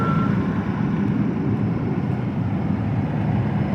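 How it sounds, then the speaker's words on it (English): A shuttle bus reverses into position at a station, its steady low engine rumble continuous and close with a faint reversing beep near the start. "Now that's how you reverse a bus."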